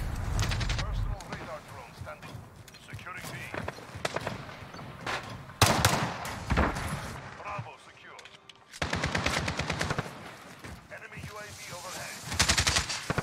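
AK rifle gunfire in a multiplayer shooter video game, with rapid bursts and single loud shots breaking out repeatedly alongside other weapons and explosions, while players talk over the action.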